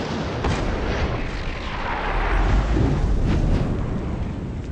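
A rifle firing a .30-06 round, played back in super slow motion, comes through as a loud, drawn-out rumbling boom of dense noise that fills the whole stretch without a sharp attack.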